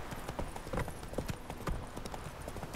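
Horse hooves clip-clopping along a road in the video game The Witcher 3, a steady trotting rhythm of soft repeated hoofbeats at moderate distance over a faint ambient bed.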